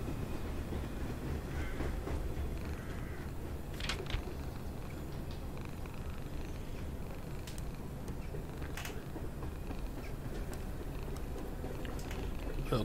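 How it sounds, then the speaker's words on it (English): A train passes close by in a continuous heavy rumble with clickety-clack wheel beats and metallic creaks, steady and loud for the whole stretch. "Oh, it's a train."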